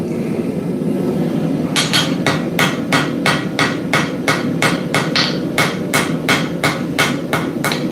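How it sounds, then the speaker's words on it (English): Light, fast hammer blows forging steel and wrought iron on an anvil, a steady run of about fifteen sharp ringing strikes starting after a quiet moment. "I'm going to do light, fast blows."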